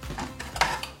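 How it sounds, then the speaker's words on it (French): A kneading blade being fitted into a Moulinex Companion food processor bowl, a few quick clicks and metallic clatters within a second, close and fairly loud. "On met la lame spéciale pour pétrir et mélanger."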